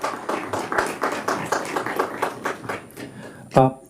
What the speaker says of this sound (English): kindly welcome all of them once again with a huge round of applause